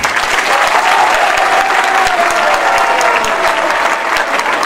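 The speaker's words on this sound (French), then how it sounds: "Il faut applaudir Serge Kassi" A large diaspora crowd at a political speech applauds loudly for Serge Kassi, a thick, continuous roar of clapping close and full, with faint voices and a cheer riding underneath.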